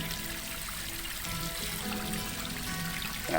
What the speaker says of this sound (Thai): น้ำตกป่าตะแบกนี่มันจะไหลลินมานะครับ